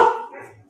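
A dog gives one short bark up close, loud at first and then fading quickly into quiet.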